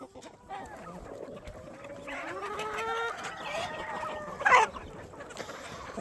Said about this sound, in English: Y'all suicidal freaking chickens.